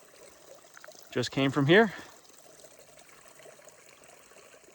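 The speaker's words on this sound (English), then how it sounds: "you would never want to drink it straight from the creek" A creek on the Pacific Crest Trail flows in a soft, steady background rush, with a brief stretch of nearby talk partway through.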